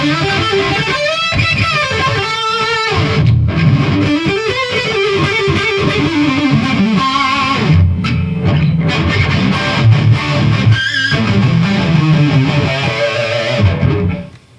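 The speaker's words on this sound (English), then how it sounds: "The distortion level of this amp is just stupid." Heavily distorted electric guitar through a Marshall JVM210 tube amp at full gain, thick and muddy with a constant buzzing wall of noise, playing for several seconds before cutting off abruptly.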